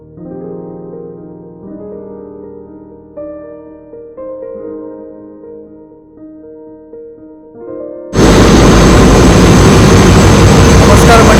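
Oil purifiers run in a large ship's engine room, a loud, dense, unbroken mechanical roar. It starts abruptly after a quiet melodic opening and holds steady to the end.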